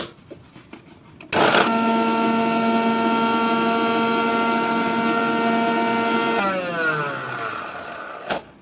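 A kitchen mixer grinder starts abruptly and runs with a loud steady whine, then winds down with falling pitch before a final clunk.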